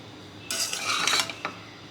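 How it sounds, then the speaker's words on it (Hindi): Fried rice tossed and mixed in a metal pan, a burst of scraping and clattering utensil contact lasting about a second, close and without speech. "बस आपको इसको ना मिक्स करना है,"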